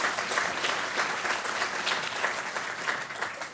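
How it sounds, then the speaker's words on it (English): Summit audience giving a round of applause, with steady dense clapping throughout at moderate, even loudness. "I'll just give a round of applause to anybody out there."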